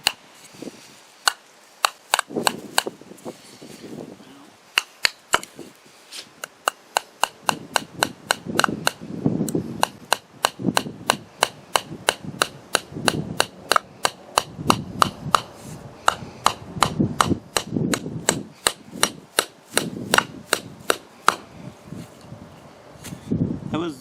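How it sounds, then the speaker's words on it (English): A HardCore hammer hatchet head drives nails, giving dozens of sharp, close metallic strikes in quick rhythmic bursts with short pauses between runs. "I'm going to just try doing some basic task here and just hammer in a couple nails with each of them."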